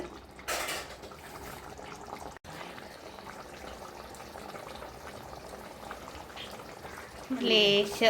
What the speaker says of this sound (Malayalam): അപ്പോൾ ദേ നമ്മുടെ മീൻകറി നന്നായിട്ട് തിളച്ച് വരുന്നുണ്ട്